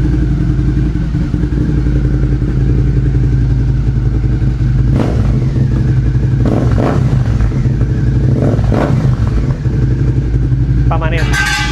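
A Suzuki SV650 motorcycle fitted with an MIVV exhaust runs steadily nearby, its deep, loud engine rumble swelling in a few short revs that stay moderate, under about 4,000 RPM.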